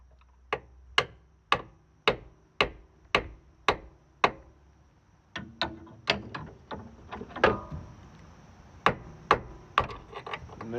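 A pry bar strikes repeatedly to push out the axle on a BMW F10 car, giving sharp metallic knocks. They come first as a steady, evenly spaced series, then as faster, irregular clusters, close and fairly loud.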